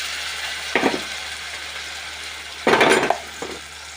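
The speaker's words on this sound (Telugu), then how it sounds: "ఇక టమాటా పేస్ట్ వేయించుకుందాం" A spoon scrapes and knocks against a pan while tomato paste with capsicum pieces fries, two short clattering bursts over a faint, steady sizzle.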